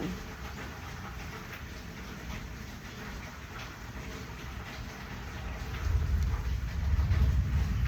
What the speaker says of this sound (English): I hear that thunder.